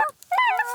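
A person's voice imitates a Canada goose, giving two short nasal honks near the mic, the second drawn out with a rising, wavering pitch.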